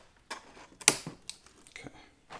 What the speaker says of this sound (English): let me grab my snips and we'll get that cut